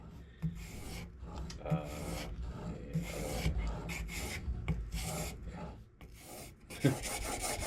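A planer blade is sharpened by hand with steady back-and-forth rasping strokes, a continuous gritty scraping with regular louder pulses, close and moderately loud.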